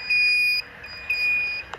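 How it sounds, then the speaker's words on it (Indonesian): A water level alarm buzzer in a monitoring setup sounds two steady high-pitched tones, each about half a second long, separated by a short gap, fairly loud over faint background hum. "Nah, juga buzzer berbunyi."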